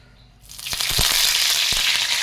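Curry leaves dropped into hot coconut oil, a quiet moment breaking into a loud sudden burst of crackling sizzle with several sharp pops, then a steady hiss close by.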